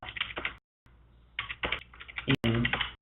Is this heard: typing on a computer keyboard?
yes